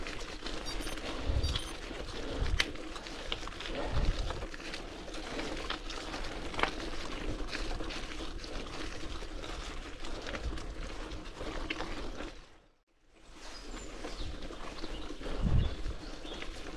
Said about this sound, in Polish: Ptaki i woda kapie na liściach.